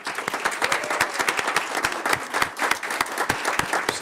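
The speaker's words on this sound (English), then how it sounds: "please stand so we can give you a round of applause" A board of education meeting audience applauds high school drama instructors, with sparse, distinct hand claps of moderate loudness sounding throughout and no voices over them.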